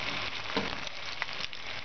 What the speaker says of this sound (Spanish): Voy a dorar un poco que se pochen mis patatas